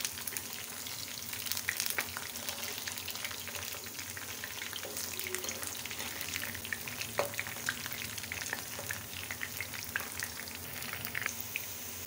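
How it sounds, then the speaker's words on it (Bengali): Chicken pieces crackle in hot oil on a flame below medium while being turned and stirred, a steady sizzle broken by scraping and clinks of the utensil against the pan. "এখন এগুলো আমি উল্টে পাল্টে ভেজে নেব"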